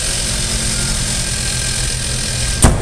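A 2012 Kia Rio's smooth-running 1.6-liter four-cylinder engine idles with a steady, close low rumble, broken near the end by a brief sharp knock or clunk.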